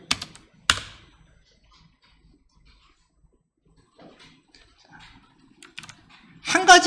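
Keys on a computer keyboard are pressed in sparse bursts with quiet gaps between them, including a sharp early keystroke and a final louder flurry of taps, close and dry.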